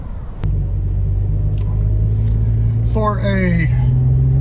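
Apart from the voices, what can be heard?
Toyota FJ Cruiser engine running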